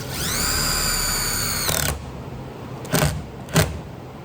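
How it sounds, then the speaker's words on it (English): Power drill driving self-tapping screws through the metal roof of a Chevy Express camper van into wood beneath: a loud whirring drill run lasting over a second, then quieter handling and two short sharp knocks, no talk. "because they've got this self-tapping point, they'll go through the metal and then into the wood"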